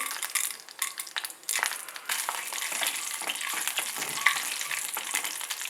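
Mustard seeds and urad dal crackle and sizzle sharply in hot coconut oil, a steady close-up frying hiss with popping bursts and the occasional clink of a pan.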